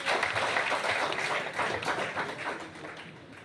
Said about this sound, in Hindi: एक बार तालियां बजाइए आपके लिए।